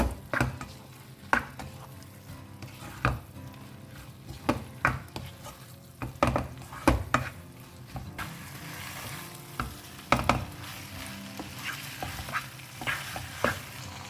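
Fried chicken sausages are stirred in a hot pan for a restaurant-style chilli dish, giving a soft continuous sizzle broken by repeated sharp spatula scrapes and taps at close range.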